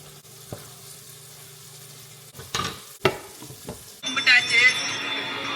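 Brinjal stirred in a frying pan with turmeric going in, a soft sizzle under scattered stirring scrapes and clinks that swell into a louder, brighter frying hiss near the end.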